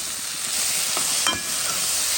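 A spoon stirs rougail 3 cousins with salted cod and herring in a cooking pot, a steady loud sizzle of frying throughout with a few scraping strokes of the stir in the middle.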